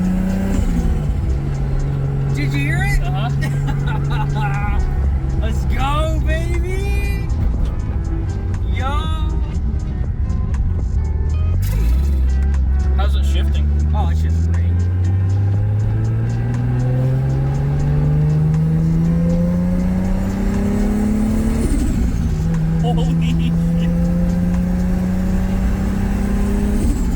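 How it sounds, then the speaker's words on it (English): A Toyota Supra's engine revs and climbs through the gears while driving, the loud rising drone dropping at each shift, heard from inside the car with excited voices talking over it. "that sounds like an actual Supra."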